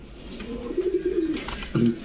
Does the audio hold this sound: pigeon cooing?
yes